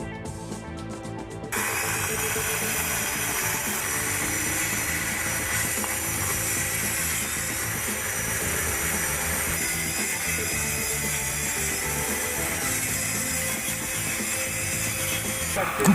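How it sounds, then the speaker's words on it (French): After a short mechanical rattle, a saw runs continuously through wooden deck boards, a loud, sustained buzzing cut with gritty texture that holds steady to the end. "Réglez la hauteur de la scie et procédez à la coupe des lames."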